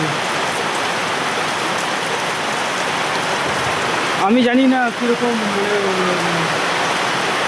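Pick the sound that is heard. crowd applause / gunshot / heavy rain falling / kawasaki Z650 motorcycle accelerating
heavy rain falling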